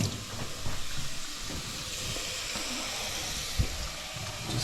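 Onions sizzling in a pot as the base for a hearty mushroom soup, a steady broadband hiss of frying running throughout at moderate level, with a few faint clicks and knocks from utensils.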